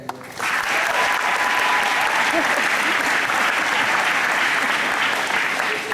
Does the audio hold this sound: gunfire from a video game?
no